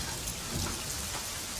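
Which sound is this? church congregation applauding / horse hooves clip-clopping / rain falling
rain falling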